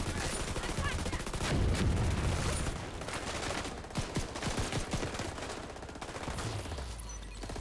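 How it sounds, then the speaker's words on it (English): Gunfire and a grenade launcher in the video game Division 2, rapid bursts of automatic fire and heavy booms layered densely, loud and continuous with a deep blast early on. "Got the grenade launcher, boom!"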